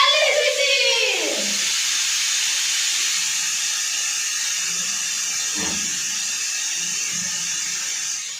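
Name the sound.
pressure cooker whistle while cooking Maggi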